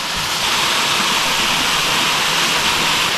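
Kakure Falls, a waterfall in the forest along a mountain road in Mie Prefecture, Japan, pours with a constant broadband roar, close and steady with no voices.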